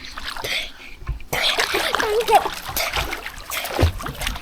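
Splashing in a swimming pool at a scenic Pran Buri, Phetchaburi resort, a burst of water sloshing and splatter close by while people chatter over it.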